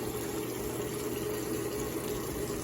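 Water pours steadily from a sink tap during handwashing, making a constant, close hiss with no voices.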